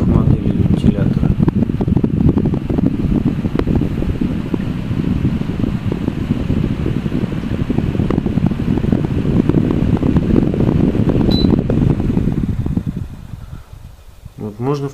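A Topsoncn Mist Fan TSP40 fan with a built-in humidifier runs close by as a steady, soft whooshing hum. Someone talks over it for most of the clip, and near the end the hum fades and a click is heard.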